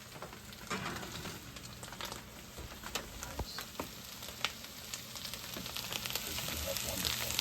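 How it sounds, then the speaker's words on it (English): Pot of beans simmering alongside slow-cooked beef backstrap, giving a steady bubbling sizzle with scattered soft pops that grows slightly louder toward the end, with no voices. "Beans are starting to simmer up a little bit."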